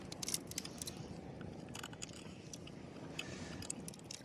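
Cooked lobster legs being broken and eaten at Dhanushkodi, with faint, continuous close crunching, cracking and chewing sounds and a few sharper snaps near the start.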